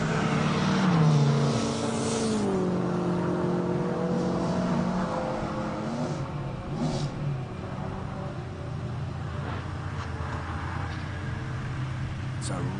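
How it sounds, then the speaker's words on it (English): A 2-litre Mercedes A45 race car accelerates up a hillclimb course, a steady engine drone with rising gear pitches under continuous commentary, moderately loud throughout. "Oh my word, that sounds incredible. That's the 2-litre A45."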